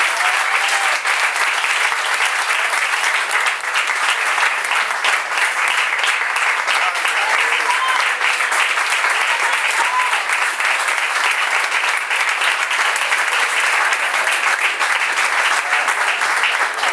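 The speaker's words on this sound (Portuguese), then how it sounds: "Uma salva de palmas pra ela em nome de Jesus." Steady, loud applause from a large crowd, continuous clapping that fills the room without letting up, with a few faint voices underneath.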